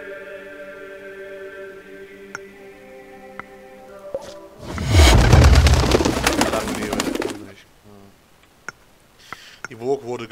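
Pigeons coo softly in the video game Reigns, a few low calls with scattered clicks, interrupted by a loud burst of noisy clatter partway through before the quiet cooing returns.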